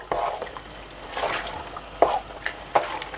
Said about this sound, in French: Nous allons remuer notre marmite